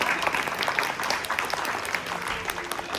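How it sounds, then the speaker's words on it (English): An audience applauds panelists at a Burmese-American panel discussion, a steady burst of many hands clapping close by for a few seconds. "I want to have everyone give a round of applause for our panelists."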